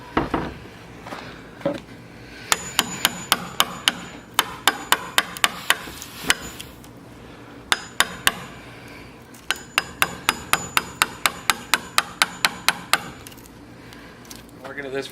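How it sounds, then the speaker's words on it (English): Hammer blows drive a chisel into a wooden door to cut hinge notches, sharp close strikes landing in quick rhythmic bursts with brief pauses between runs. "Working at this for about 2 minutes and chiseling it out pretty good."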